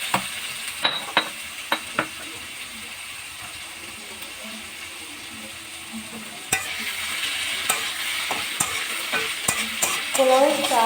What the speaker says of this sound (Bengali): পোলাওয়ের চালটা আলুর সঙ্গে খুব সুন্দর করে ভেজে নেব।